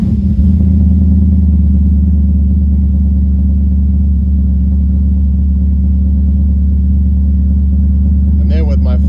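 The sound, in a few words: Specvette Corvette C1 replica engine starting and running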